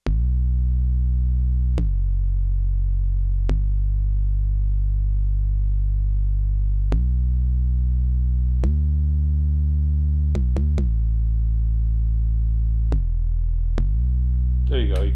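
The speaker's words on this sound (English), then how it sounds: "You can hear that portamento slide there." Elektron Digitone synth bass line with portamento, sustained low notes gliding smoothly from one pitch to the next, steady and prominent with a few quick note changes and no talking.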